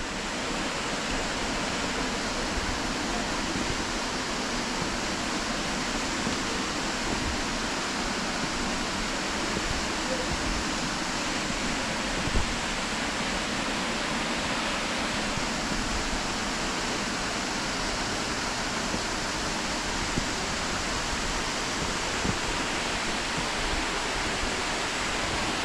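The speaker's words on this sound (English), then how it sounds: "get closer to the waterfall underneath it so you can see it better" The waterfall at Stainforth roars as a steady, broadband rush of falling water, constant and unbroken, fairly close, with no voices over it.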